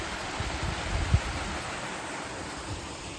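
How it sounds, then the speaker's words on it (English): A small brook and little waterfall flow in New York as a steady, soft, even rush of water, with a single faint thump partway through. "You guys can hear the little brook, the little waterfall right here."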